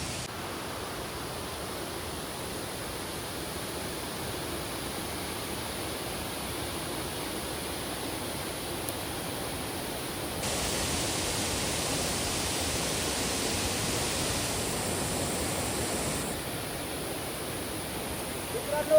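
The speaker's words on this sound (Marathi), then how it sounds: "नजारा एकदम खतरनाक वॉटरफॉल आहे." A monsoon waterfall hidden in the hills gives a steady, broad rushing roar with no pauses. It grows slightly louder about halfway through, and no voice rises clearly above the noise.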